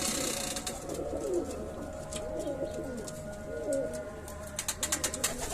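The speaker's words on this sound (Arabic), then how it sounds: "طيور حلوه كلها ما شاء الله" Pigeons coo softly in a loft among a flock of birds, low burbling calls repeating under steady background noise, with a few sharper sounds near the end.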